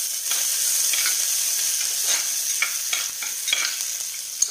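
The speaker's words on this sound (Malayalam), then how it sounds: "അതിലേക്ക് നമ്മൾ എടുത്തിട്ടുള്ള സവാള ചേർത്ത് കൊടുക്കുക" Onion hits hot oil with a pinch of cumin for a lunch-box dish, a loud, bright, continuous sizzle with crackling pops and a few stirring scrapes close by.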